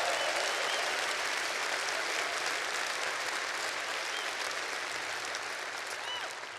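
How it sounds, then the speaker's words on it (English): Sustained applause from a large audience at the 2015 Musial Awards show, dense and steady throughout, tapering slightly at the end. "That deserves applause."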